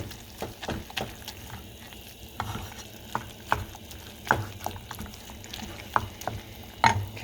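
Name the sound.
stirring homemade chili in a pot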